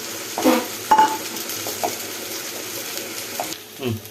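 Tamarind rice being stirred in a pan over a medium flame, with faint scraping clinks and a soft background sizzle, a few louder spoon knocks near the start and a short voice at the end.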